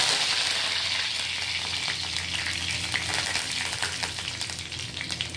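Mustard seeds and curry leaves sizzle and crackle in hot oil in a pan, a steady close frying hiss with small popping bursts and no talk.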